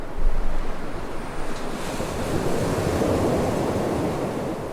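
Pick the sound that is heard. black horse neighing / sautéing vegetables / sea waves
sea waves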